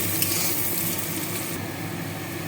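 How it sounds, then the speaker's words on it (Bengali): Garlic and chopped ginger frying together in a pan for a vegetable stew, a continuous loud crackling sizzle that softens slightly partway through, with no talking. "আদা কুচিটা দিয়ে সবগুলোকে একসঙ্গে ভালোভাবে আমি একটু ভেজে নিচ্ছি"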